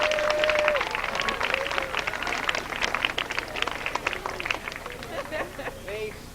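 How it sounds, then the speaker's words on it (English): A small audience claps and cheers at an outdoor dedication of Thoreau's cabin, a lively round of applause mixed with children's excited voices and chatter. "So can we hear a little round of applause?"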